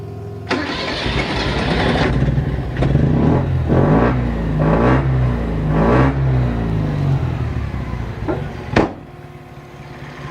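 A 1980 Mitsubishi Minica four-stroke engine cranks and fires, then settles into a running idle broken by several sharp revs. Each burst swells and falls back, close and loud, with no talking.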